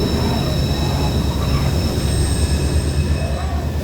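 A passenger train rolls through Mexico in a steady, loud interior rumble with a faint high wheel squeal and constant rail noise throughout.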